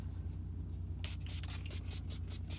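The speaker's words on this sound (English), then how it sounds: "Put a thin spray of NYX." NYX setting spray misted onto a face during a makeup routine, a run of short, soft hissing bursts close to the mic after a quiet start, with no talking.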